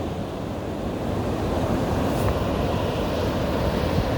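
Ocean waves rolling onto the beach at North Myrtle Beach on a morning walk, a steady loud wash of surf mixed with wind noise on the microphone.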